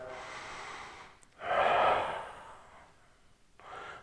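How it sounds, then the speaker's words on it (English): Slow, deliberate breath sounds during a hip-stretching routine, drawn in through the nose and released out through the mouth: a soft airy inhale, then a louder, fuller exhale, and another breath starting, close and alone. "focus on your breathing, in through the nose,"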